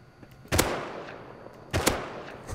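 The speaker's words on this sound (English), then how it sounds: "shoot him" Two loud, sharp gunshots ring out in the video game Rust, a little over a second apart, each followed by a brief decaying echo over faint background noise.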